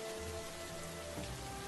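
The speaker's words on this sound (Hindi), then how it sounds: "बारिश और तेज हो गई।" Steady heavy rain pours down in a broad, even hiss with no pauses, close and continuous, in a cartoon moral story setting; no voices.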